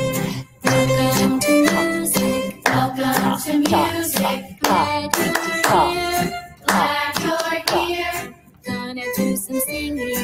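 Hand clapping keeps time with a recorded music track in a classroom play-along, steady rhythmic claps mixed into continuous instrumental and sung music throughout.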